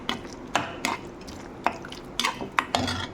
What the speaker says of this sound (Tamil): இப்போது இதில் தயிரை ஊற்றிக்கலாம்.